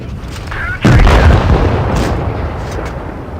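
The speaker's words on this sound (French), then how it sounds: "le bruit du canon est vraiment sympa" A single loud tank cannon blast from a T28 Defender in World of Tanks Blitz booms suddenly, its low rumble rolling on and fading slowly, with faint game sounds before and after.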